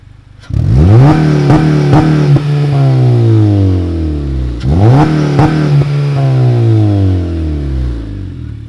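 A Honda Civic Si (FA5) engine with a downpipe revs hard twice, each burst jumping sharply to a loud roar and then slowly winding down, recorded close by.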